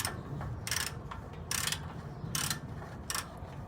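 A 1/2 inch drive ratchet with a 14 mm socket works a bolt loose during 42RE transmission removal; four close, loud bursts of rapid clicking pawl ratcheting, spaced under a second apart, without speech.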